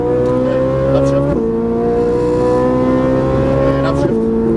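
A Ferrari 458 on a race track accelerates at full power, its engine note climbing loud and steady before dropping sharply at an upshift around a second in, then rising again to another quick shift near the end.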